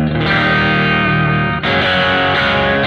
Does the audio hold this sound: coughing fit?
no